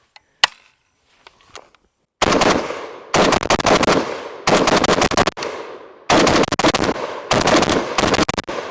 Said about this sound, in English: shoot some rounds